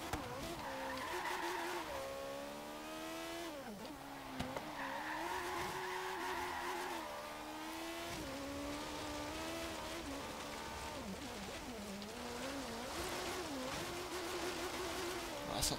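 Sustained engine wail of a 2012 Hot Wheels Rip Rod car in Forza Horizon autocross, revs rising and dipping repeatedly as the tires skid and squeal through oversteering slides, loud and continuous.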